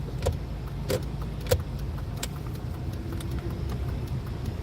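City street traffic on a busy block lined with bars, heard from inside a car with its windows rolled down: a low, steady engine and road rumble with scattered clicks and rattles, and no voices.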